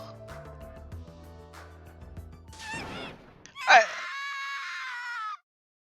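A long, loud, sustained scream from a character in the video game Danganronpa 2 follows game music and sound effects, then cuts off abruptly.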